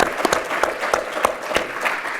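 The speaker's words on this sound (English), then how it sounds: "please applaud for him" An audience at a conference session claps steadily in sustained applause, a dense patter of hand claps that stays even throughout, with no talk over it.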